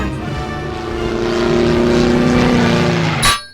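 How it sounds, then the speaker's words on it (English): A plane crashing in The Simpsons Game: a loud, droning propeller-aircraft engine swells and holds, then ends in a brief sharp impact. "The worst plane crash in a video game history."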